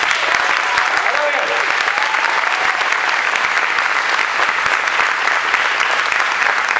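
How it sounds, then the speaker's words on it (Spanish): Loud, sustained applause from an audience at a live event in El Salvador, a dense, steady roar of many hands clapping close by for the full length, without a break. "yo quiero que le demos un fuerte aplauso a Moni."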